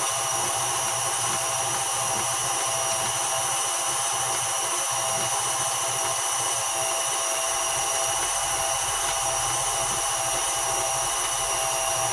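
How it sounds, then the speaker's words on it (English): A small, inexpensive electric meat grinder grinds chicken with a continuous, even motor whine and hum, close and steady from start to finish, with no talking. "I like to use the meat grinder because it gives me a better sense of what I'm eating."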